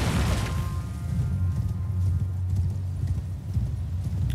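A horse galloping in Elden Ring, steady rapid hoofbeats pounding close and loud throughout with a brief snort or whinny near the start, no talking over it.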